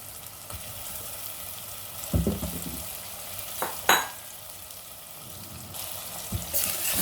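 Cut potatoes and tomatoes fry in a pan with a steady low sizzle, broken by a few sharp clinks and scrapes of a utensil against the pan; no one speaks.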